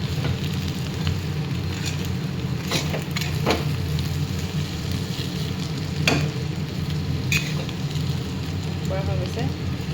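Potatoes stirred while frying in a pan, a steady close sizzle throughout with a few sharper scrapes and clinks of the stirring utensil.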